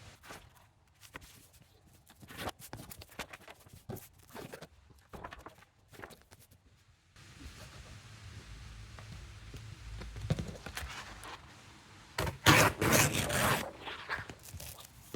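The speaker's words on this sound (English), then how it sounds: "ripping them like with a ruler, but it's taking ages" Paper pages being torn slowly along a ruler's edge, with scattered rustles and scrapes at first, then a steadier rasping stretch and a louder, brighter run of ripping near the end, close and alone.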